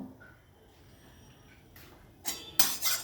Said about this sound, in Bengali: তাহলে আমি এখন ঢাকা দিচ্ছি